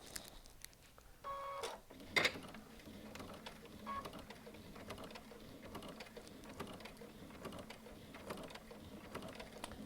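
A Baby Lock Altair sewing machine runs slowly through a thick stack of thirteen denim layers. It makes a quiet, uneven mechanical clatter with a few beeps and ratcheting clicks near the start, then a steady low ticking of stitches.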